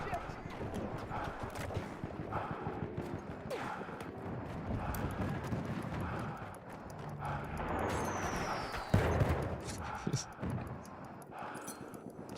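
Horse hooves clip-clopping at a gallop in the Battlefield 1 video game, a steady rhythmic patter mixed with distant gunfire and game noise, under ongoing talk.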